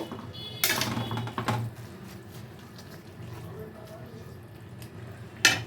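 Mung dal gets stirred into bottle gourd in a pot for a vegetarian lau ghonto, producing a few sharp scraping clacks of a spoon against metal, with quieter soft stirring between, close and moderately faint.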